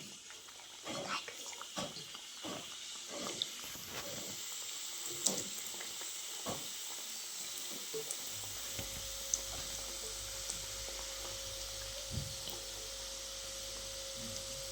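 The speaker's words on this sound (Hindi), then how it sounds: "अब तेल गरम है, धीमी आंच में हम इसको पकाएंगे।" Gujiya frying in hot oil over a low flame, a soft continuous sizzle and hiss with a few faint pops and taps early on, fairly quiet and close.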